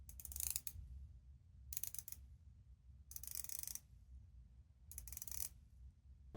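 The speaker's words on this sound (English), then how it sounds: "Because I can't stop playing with this 120-click unidirectional bezel." The 120-click unidirectional bezel of a Doxa Sub 200T dive watch is turned in four brief spells of faint, crisp clicking, close up, with near silence between them.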